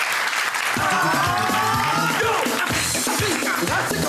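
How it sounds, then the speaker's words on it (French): Steady applause from an audience at a live comedy show, continuous clapping throughout with crowd noise and someone speaking over it. "On applaudit bien fort, Showman"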